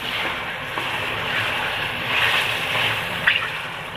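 Chicken korma masala frying on full flame in a pan, a steady loud sizzle and hiss that runs unbroken with a slight swell near the middle and no talking.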